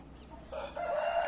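Two chickens sharing one nest give a brief clucking call, close but fairly quiet, rising over a soft background.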